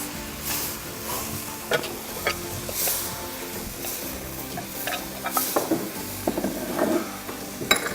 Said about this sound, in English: we're going to go ahead and add the noodles in